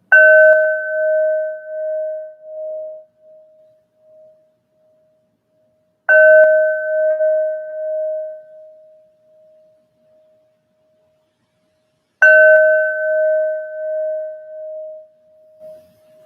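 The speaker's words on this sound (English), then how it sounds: "Bells, bells, bells." A bell struck three times at even intervals of about six seconds, each clear ringing strike fading slowly, close and alone.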